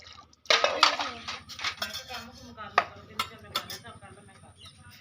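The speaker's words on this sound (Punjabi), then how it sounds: "ਕਿੰਨੇ ਕਿਹਾ ਭਾਂਡੇ ਸਾਫ਼ ਕਰਨ ਨੂੰ" Pots, dishes and cutlery clink and clatter in a busy run of sharp metallic knocks and rattles as kitchen utensils are handled and washed, with voices talking nearby over part of the clatter.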